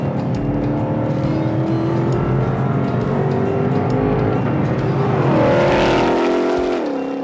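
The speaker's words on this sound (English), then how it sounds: "But for me, it's not so much about the numbers, but how this engine feels and how it sounds." A Ford Mustang GTD engine roars loudly as it accelerates hard, pitch climbing steadily through the gear, then swelling near the end before a sharp shift drops the tone.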